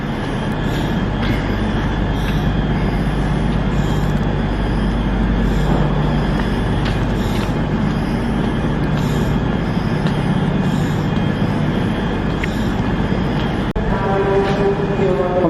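Train rumble fills a busy station, with a steady low drone, occasional clanks and a rising whine near the end, no clear talking.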